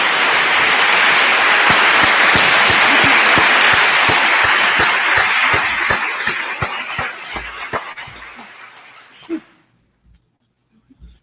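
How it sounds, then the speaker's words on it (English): A large audience at an international scientific conference event claps loudly and steadily, the applause dense and sustained before thinning out and stopping abruptly near the end. "Please give them a round of applause."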